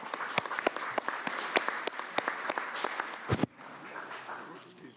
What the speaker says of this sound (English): Let's give a round of applause to our panel